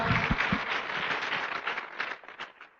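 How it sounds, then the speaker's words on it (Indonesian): Audience clapping in Bali, dense at first with a few sharp claps up close, then thinning out and fading toward the end. "kita beri tepuk tangan sekali lagi untuk Ibu Sela."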